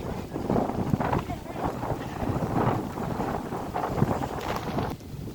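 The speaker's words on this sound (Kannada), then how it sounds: "ಗಾಳಿ ನೋಡ್ರಿ ಗಾಳಿ" Strong wind buffets the microphone outdoors on the way up to a hilltop temple, a loud, continuous rumbling gust that swells and dips for several seconds and eases near the end.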